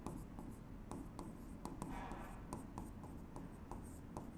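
A pen scratches across paper in short, repeated strokes while a corporate accounting problem is worked out by hand, close and quiet, with faint pauses between strokes and no talking.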